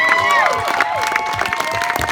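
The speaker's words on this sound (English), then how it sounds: "Everybody, let's give her a round of applause, because she truly looks beautiful." Wedding guests at a reception clapping and cheering for the bride, a short burst of lively crowd noise with whoops and excited voices mixed over the applause.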